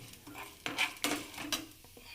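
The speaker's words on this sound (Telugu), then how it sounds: "ఇందులోనే ఒక రెమ్మ కరివేపాకు, ఒక ఉల్లిపాయ వేసానండి, తరిగిన ముక్కలు, ఒక ఉల్లిపాయ." A sprig of curry leaves and one chopped onion fry in a hot pan, with a soft sizzle under sharp scraping and clattering as a utensil stirs against the metal in several quick bursts.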